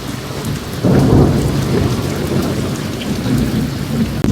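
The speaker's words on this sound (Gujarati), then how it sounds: "કેવો વરસાદ ને વીજળી શરૂ એટલે વીજળી કડાકા કેટલા થાય છે." Heavy monsoon downpour in Surat, a dense steady hiss of rain on surfaces with a deep rumble of thunder rolling in after the first second, loud and close, with no voices.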